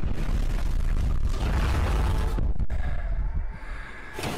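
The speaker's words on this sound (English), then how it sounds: "The appearance of the explosion is quite good" A loud, sustained roaring movie explosion with rumbling low end and crackling debris, tapering into a softer rumble.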